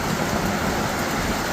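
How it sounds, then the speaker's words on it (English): Heavy rain pours steadily during a thunderstorm. The dense, even hiss is loud and close, with low rumbling underneath and no clear thunder crack. "That'd be thunder."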